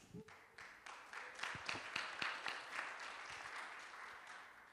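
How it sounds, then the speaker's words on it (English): An audience at an academic presentation event applauds a student presenter, clapping swelling quickly and then tapering off, moderately distant and without talk. "Please give her an applause"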